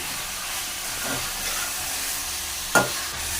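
A spoon scrapes and stirs spicy chicken curry in a hot pan, with a steady sizzle and hiss underneath and one sharp metallic clink near the end.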